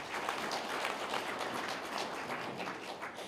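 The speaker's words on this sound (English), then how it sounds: "they deserve a round of applause" A short burst of audience applause at a regional government address in Namibia, many hands clapping steadily at moderate volume with no voices over it.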